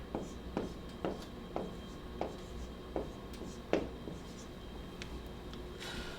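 Marker or chalk strokes on a board during a talk on worship ministry, a series of short scratchy scribbles repeating about every half second, close and moderately loud, with no speech over them.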